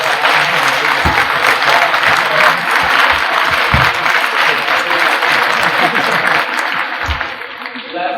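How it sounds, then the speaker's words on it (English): Sustained applause from a school assembly audience honoring teachers and administrators, loud and steady for about eight seconds with voices mixed in, tapering slightly at the end. "So please give your teachers and your administrators a round of applause."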